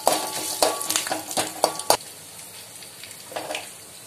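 Cashews and spices fry in oil for a tempering with a light sizzle under a quick series of clinks and scrapes as a spoon stirs the pan. The stirring stops midway, then one more short stir follows, all close by.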